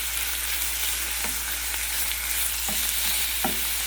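Pork meat frying in a stainless steel pan, with steady sizzling throughout and a few soft scraping knocks from stirring near the end, close and fairly loud.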